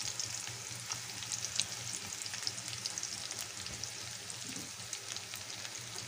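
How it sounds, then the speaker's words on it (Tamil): Large, lengthwise-sliced onions sauté in hot oil for a chicken fry, giving a steady, even sizzle with soft crackles that holds throughout, close and alone without any voices. "கொஞ்சம் சும்மா கொஞ்சம் வதக்கிக்கோங்க."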